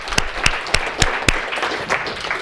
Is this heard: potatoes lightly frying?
no